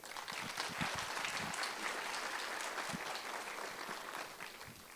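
Congress audience claps for a speaker, a dense, steady round of applause at moderate volume with a few louder close claps, holding evenly throughout.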